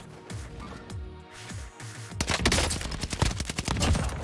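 A Bren machine gun fires in rapid bursts in a shooter game, loud and close, with a few scattered shots first and then a dense, sustained string of rounds.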